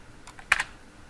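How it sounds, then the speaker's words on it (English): An enter key on a computer keyboard is struck once, a firm close click preceded by a couple of softer taps. "and then press enter on our keyboard"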